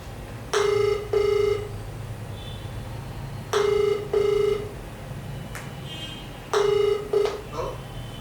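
A telephone rings back while a call is placed, with three pairs of bright, evenly spaced double rings separated by pauses, loud and close, with no talking.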